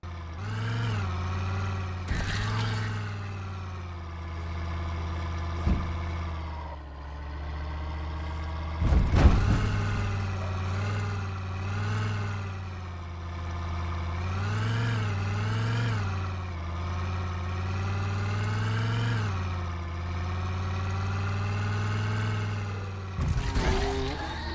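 A vehicle engine in the Project Zomboid video game drones loudly and continuously, with a low steady rumble that rises and falls as it revs, plus a few sharp knocks.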